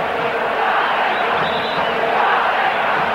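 Loud, dense roar of a football stadium crowd cheering Brazil during a 1990 friendly against Bulgaria, sustained and swelling throughout with no break.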